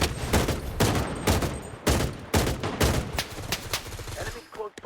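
Rapid bursts of video-game gunfire in a battle royale match, loud and repeated in clusters of sharp shots, with players talking over the action.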